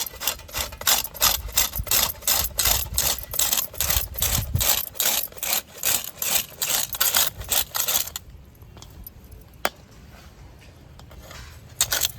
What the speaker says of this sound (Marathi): आपण आता भोपळा किसून घ्यायचा आहे